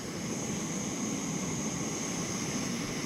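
Jetboil camping stove burning at a campsite, a steady roaring hiss with a faint high whine, even and continuous for the whole stretch, close up with no talking.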